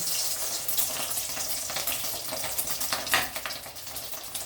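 Riceberry rice balls coated in egg fry in hot oil, giving a steady watery crackle and sizzle with scattered sharper pops, fairly close and moderately loud, with no talk.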